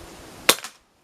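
A single sharp crack from a Daystate Delta Wolf air rifle, close and loud, with a brief secondary snap just after and then silence.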